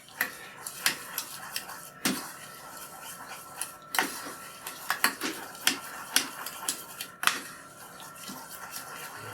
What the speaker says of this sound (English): butter's melted, so then goes the sugar. Stir that around.